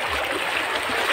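A very clear river streams steadily past, a continuous close rushing and trickling of water with no pauses and no voices over it.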